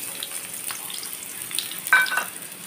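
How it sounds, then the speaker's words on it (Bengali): Onion and garlic sizzle in white cooking oil in a pan, a steady crackling fry close by with a sharper burst of spitting partway through, no voices. "আমি প্রথমে সাদা তেল দিয়ে দিলাম, আর আমি পেঁয়াজ আর রসুন দিয়ে দিলাম।"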